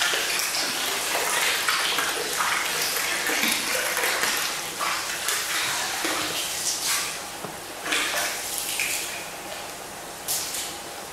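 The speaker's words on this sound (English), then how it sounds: "So now I'm going to add the hydrogen peroxide." Hydrogen peroxide poured into a sturgeon's water during a potassium permanganate treatment, giving a steady, close splashing gush with rising and falling surges throughout.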